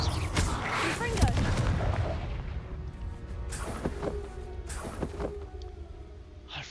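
A Confringo fire-blast spell cast in the game Hogwarts Legacy, several loud explosive bursts and impacts over a rumbling battle background, with voices speaking in between.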